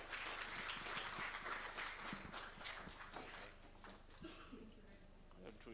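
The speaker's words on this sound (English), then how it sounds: "And a round of applause," Scattered clapping from a small audience at a digital marketing summit in Tanzania, somewhat muffled and distant, with voices murmuring beneath it.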